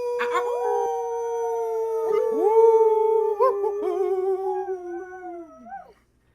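A dog howls in long, sustained rising and wavering tones, several drawn-out cries in succession, close and clear, with a short break before a final howl that trails off.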